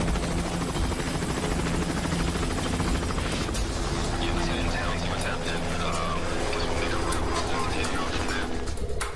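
A police patrol helicopter hovers with a constant, loud rotor and engine drone throughout, with speech heard over the noise.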